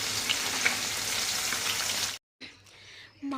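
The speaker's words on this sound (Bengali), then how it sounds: "চলো মাছটা ভাজা হয়ে যায়।" Fish frying in oil in a pan, a dense close sizzle that crackles for about two seconds and then cuts out abruptly into near silence and a faint muffled tail.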